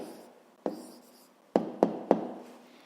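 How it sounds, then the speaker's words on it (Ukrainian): A pen scratches out an answer on paper for a 5th-grade math exercise, several short close strokes and taps separated by brief pauses. "Ну що ж, записуємо тоді відповідь."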